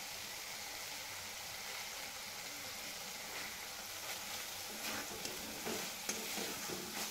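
Chopped capsicum with garlic and crushed peanuts cooks uncovered in a pan over a gas flame, giving a quiet, steady sizzle with occasional faint stirring scrapes.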